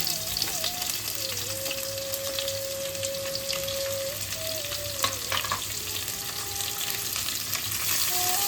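Chopped onion frying in a pan after whole garam masala tempering, giving a steady, close sizzle with bubbling crackles and occasional stirring scrapes, while a faint sustained tone drifts underneath.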